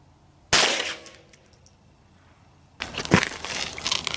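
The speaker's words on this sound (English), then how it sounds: "We're going to shoot this one with 17 grain VMAX Horn 80 bullets" A 17 HMR rifle firing a 17 grain V-MAX bullet into a water-filled 2-liter plastic bottle outdoors, with a sharp crack and splash, then a second crunching burst of noise a couple of seconds later.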